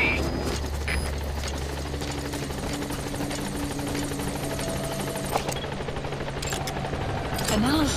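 Support helicopter arriving at a landing zone in the video game Metal Gear Solid V, a steady rotor drone throughout with occasional distant gunfire-like pops, rising slightly near the end.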